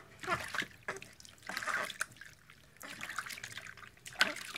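Soft water splashes and trickles come in short bursts, close but quiet, with pauses between them.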